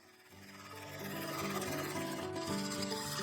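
Gouge cutting an ash wood bowl lid spinning on a lathe, a steady tonal scraping and humming that swells after a quieter start and holds at a close, even level.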